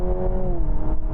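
A Honda Civic e:HEV hybrid plays a synthesized engine note through its cabin speakers, a loud, steady droning hum with a slight rising tone, heard briefly with no talk.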